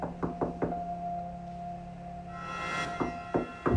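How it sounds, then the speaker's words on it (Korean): Someone knocks on a door late at night in a quiet room: two sharp bursts of three knocks at the start, a lull, then a few more raps near the end, close and distinct over a low background hum. "누군가 문을 두드리는 소리가 들렸어요."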